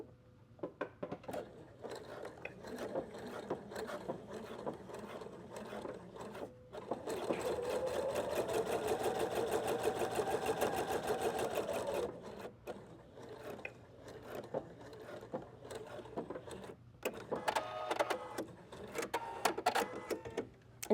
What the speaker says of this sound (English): we're actually going to start and finish stitching a 1/2 inch from the long edges